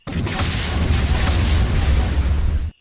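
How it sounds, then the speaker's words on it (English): A big explosion sound effect in a Star Wars audiobook, one sustained roaring boom with crackling debris that fills nearly three seconds loudly before cutting off abruptly. "there was the flash and thunder crack of an explosion from behind them"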